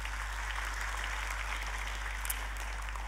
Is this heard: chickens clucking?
no